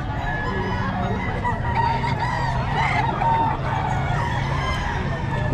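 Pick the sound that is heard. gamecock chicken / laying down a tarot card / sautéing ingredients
gamecock chicken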